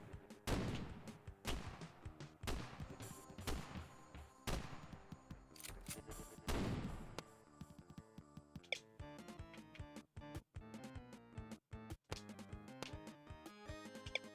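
Gunfire in a video game with shotguns, including a double-barreled shotgun: a volley of loud, sharp blasts in quick succession, then sparser shots and clicks over a background game music bed.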